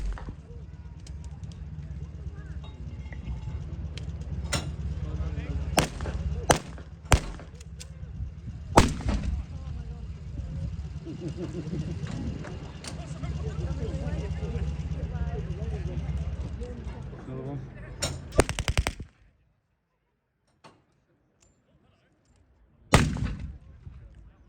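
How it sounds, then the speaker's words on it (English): An anti-tank gun at a wartime reenactment fires several sharp, loud reports spaced seconds apart over a steady low engine drone and crowd murmur, followed by a quiet pause and one more late bang. "So the anti-tank gun's going to fire off his rounds."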